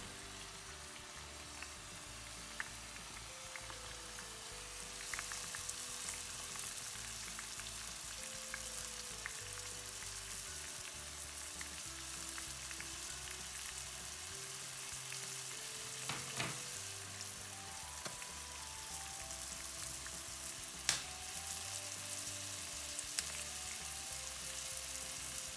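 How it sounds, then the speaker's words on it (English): Shallot rings deep-frying in hot oil while being stirred continuously, a steady dense sizzle and bubbling with light scraping, growing fuller after the first few seconds. "Stirring continuously as the oil heat up and the shallot begin to cook and bubble"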